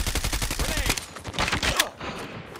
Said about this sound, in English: Somebody's there shooting from somewhere